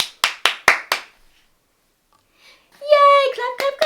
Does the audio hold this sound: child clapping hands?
yes